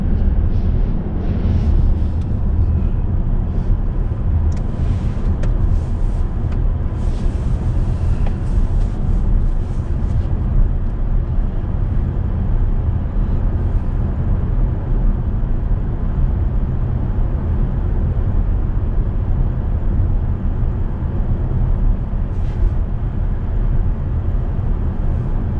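Steady broadband road and wind roar from inside a Tesla Model Y Juniper cruising along a northern road, a constant loud rumble with faint intermittent ticks and no talk.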